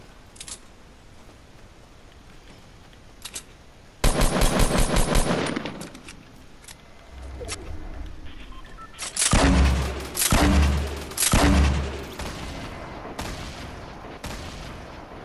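Gunfire in the video game Fortnite: a sharp rapid automatic burst, then scattered single shots and several heavy booming volleys, loud and close, with a faint voice in places.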